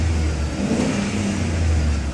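A truck engine runs revved up during a Class C CDL pre-trip inspection, a steady, loud mechanical roar with a low drone that holds fairly even throughout, close to the listener and with no voices.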